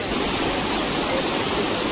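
Heavy water pours down a foaming waterfall, a loud, dense, continuous roar that stays constant throughout with no other sounds breaking through.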